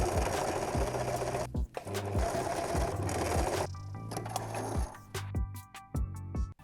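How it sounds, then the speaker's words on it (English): A sewing machine joins fabric pieces for a baby sling carrier, running in close mechanical bursts with rhythmic needle thumps, pausing briefly, then finishing with short stop-start runs. "And then I'm going to sew them together"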